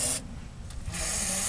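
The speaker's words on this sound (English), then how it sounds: "I'm spraying it with WD-40 and lubricant" A short burst of WD-40 aerosol spray onto a Honda CR-V sway bar link bolt hisses, pauses briefly, then sprays again in a longer steady blast up close.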